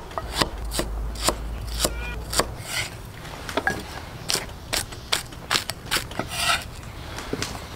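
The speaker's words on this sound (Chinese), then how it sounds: "全部切碎。" A knife chops scallion, ginger and garlic on a board in quick, uneven bursts of sharp, close thuds, with a low hum fading out early, while food is prepped for braised soft-shelled turtle.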